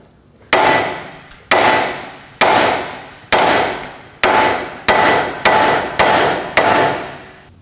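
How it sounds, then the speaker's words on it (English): Nine sharp, ringing hammer blows strike in a steady rhythm against the steering knuckle to pop loose the outer tie rod on a 2014-2020 Acura MDX, each hit decaying before the next. "we're going to tap right in this area. That's going to pop the outer tie rod."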